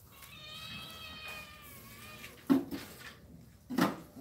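A cat meows, a drawn-out wavering call followed by two short sharp meows, close and fairly clear against a quiet indoor background.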